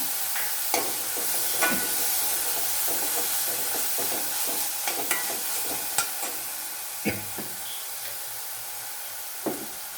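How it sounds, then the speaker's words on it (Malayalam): Passion fruit pulp stirred into a pan of simmering rasam over low heat, a steady soft sizzle and bubbling broken by occasional scrapes and clinks of a spoon, close and fairly quiet, without voices. "ഒരു ഫാഷൻ ഫ്രൂട്ടിൻ്റെ ഉള്ളിലെ പൾപ്പ് എടുത്തിട്ടുണ്ട്. അത് നമുക്ക് ഇതിനകത്തൊന്ന് ചേർക്കാം."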